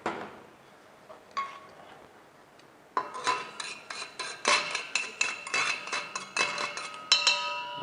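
Eggs being worked into brioche dough in a bowl, heard as quiet clinks at first, then a steady run of rapid scraping and clinking strokes against the bowl in fast rhythmic bursts, close by with no talk.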